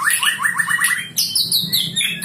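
A white-rumped shama (murai batu), kept in a house with many other songbirds, sings a fast string of bright, close, rising whistles and trills, loud and clear with no talk over it.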